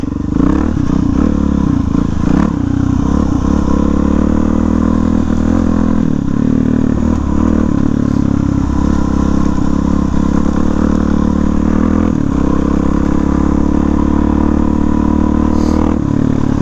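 An off-road motorcycle rides on trails, its engine droning low and steady close by, with clattering and scraping from the rough ground and brief rises in revs.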